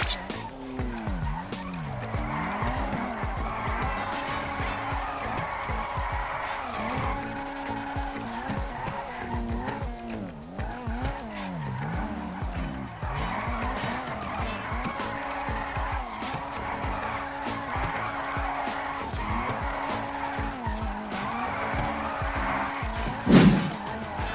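A car drifting in the video game GTA V, engine revving in repeated rising and falling sweeps under continuous loud tire squeal, with a sharp thump near the end.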